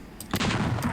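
Unreal Tournament 99 shotgun firing its secondary double blast: after a short quiet moment, a loud, dense burst of gunfire erupts and rumbles on to the end, with a second crack near the close.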